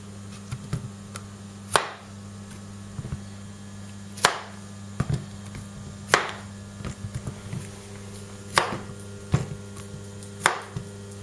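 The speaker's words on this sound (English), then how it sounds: "let's see how the Tops Trekker LITE does cutting through these courgettes and various other salads now" Tops Trekker Lite survival knife chopping courgettes and other vegetables, five or six crisp, separate chops at uneven intervals, close and distinct over a low steady hum, with small taps between them.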